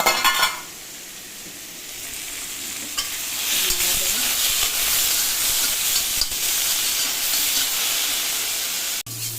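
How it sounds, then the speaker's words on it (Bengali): Spices frying lightly in a pan for a radish and fish curry, a steady close sizzle with faint stirring scrapes, rising after a quiet start and running loud and even until a sharp cut near the end. "দেখো মশলাটাকে একটু হালকা ভেজে নিলাম।"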